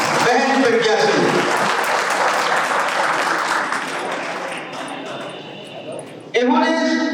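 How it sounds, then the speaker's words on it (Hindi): A hall audience at a chemistry coaching centre's annual function claps steadily for a student who placed second in the top ten, the applause swelling then tapering, with a voice on a microphone before and after it. "इनके लिए जोरदार तालियां बजाएं।"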